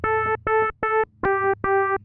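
Five sustained sine-wave notes from a modular synth in Caustic, each about a quarter second long with short gaps between them, a clean electronic tone with a steady low hum underneath.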